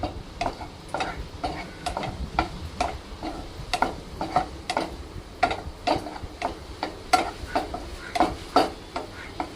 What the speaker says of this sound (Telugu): తర్వాత ద్రాక్ష కూడా వేయించుకుందామండి